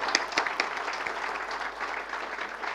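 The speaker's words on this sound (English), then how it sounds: "deserves a better applause than that" An audience at a product launch event claps in steady, moderate applause, a continuous patter of hands from a mid-sized crowd that neither swells nor dies away.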